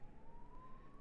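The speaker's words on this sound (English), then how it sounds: "there's so much police siren." Distant police or ambulance siren, a thin steady wail rising slowly in pitch, faint beneath low background rumble with no talk over it.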